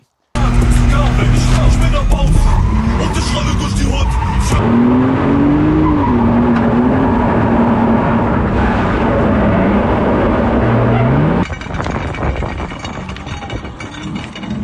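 Loud BMW tires skid and squeal over a roaring engine, with pitch sliding as the car slides, then shifting to rougher engine and road noise.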